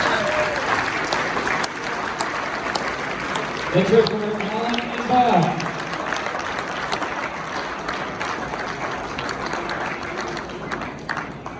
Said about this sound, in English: give Colorado Politics and everybody who was on the program tonight a round of applause